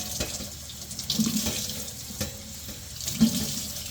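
Tap water runs steadily over cymbals being rinsed in a sink, a close, continuous splashing wash with slight surges as the metal is moved beneath the stream.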